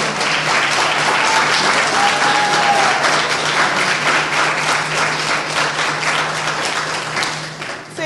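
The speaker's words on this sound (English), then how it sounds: "Please, a big round of applause for" Sustained applause from a student assembly audience at a model African Union event, dense and steady for about eight seconds before thinning slightly at the end.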